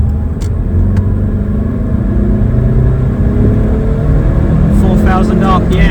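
A car engine rumbles and pulls steadily under hard acceleration toward 4,000 RPM, the loud, continuous drone heard from inside the cabin of a used car with about 140,000 miles, with a few faint clicks and rattles.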